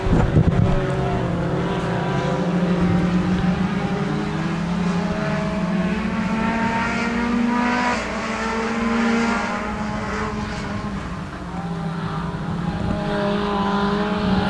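Mini stock race cars roar around the Genesee dirt track during an eight-lap heat, a continuous loud engine drone with shifting pitch as the pack passes, steady throughout with no talking.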